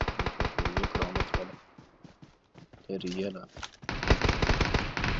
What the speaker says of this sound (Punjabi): ਕਿੱਥੇ ਹੋਈ ਫਾਇਰਿੰਗ?